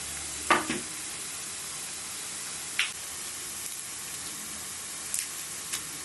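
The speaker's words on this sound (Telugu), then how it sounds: "ఎల్లిపాయలు 2 మగ్గాలి" Onions sauté in a pan for mutton dalcha with a steady, faint sizzling hiss, broken a few times by soft stirring clicks and scrapes of a spoon.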